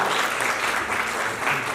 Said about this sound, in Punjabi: ਇੱਕ ਵਾਰ ਜ਼ੋਰਦਾਰ ਤਾੜੀਆਂ